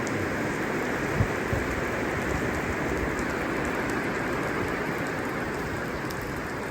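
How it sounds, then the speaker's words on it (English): Steady rain falls on a farm in spring, a dense even hiss of drops on surfaces continuing throughout without a break, close and fairly loud, with one small knock near the start and no voices. "More rain, look at that."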